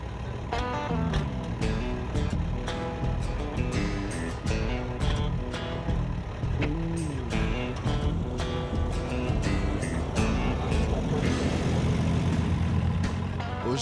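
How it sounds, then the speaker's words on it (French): Powerful tractor engines roar at a tractor pull competition in Sainte-Clette, loud and sustained, with repeated revving surges and pitch sweeps rising and falling as the machines pull. "on est à un événement de tir de tracteur"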